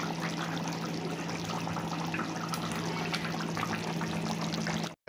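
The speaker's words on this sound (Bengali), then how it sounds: "মাছ ঢেলে নেওয়া হচ্ছে" Katla fish curry poured steadily from a pot in a home kitchen, a continuous close splashing, trickling stream of liquid lasting about five seconds before it cuts off abruptly.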